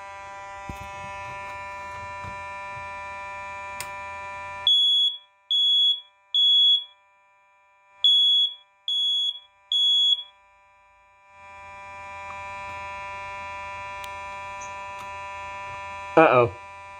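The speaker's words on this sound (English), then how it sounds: "let's do the Nighthawk" A Nighthawk fire alarm sounds a loud, piercing temporal pattern of two sets of three beeps over a background hum, with a little talk near the end.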